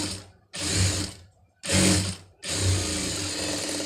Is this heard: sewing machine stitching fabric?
yes